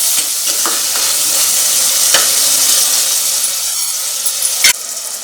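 Tomatoes and spices fry with salt in a pan for a korameenu fish curry, giving a steady, close sizzle with occasional stirring scrapes and no talk throughout.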